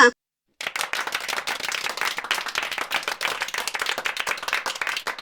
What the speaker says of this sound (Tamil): அவங்கள கைத்தட்டி வரவேற்கலாமா?